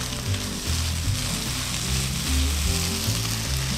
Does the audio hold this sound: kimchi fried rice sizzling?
yes